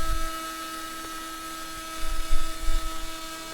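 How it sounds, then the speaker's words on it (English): A custom Arduino-driven CNC router runs its ball screws, giving a steady high-pitched motor whine with constant tonal hum, plus a few soft low thumps, close and fairly quiet. "Here's kind of shot of the ball screws running here"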